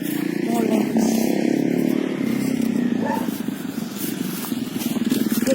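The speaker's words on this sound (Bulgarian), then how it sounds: "Отново някакъв мотор." A motorcycle passes by outdoors with a loud, steady engine drone and a rough throaty rumble that holds for several seconds before easing slightly, with background noise around it.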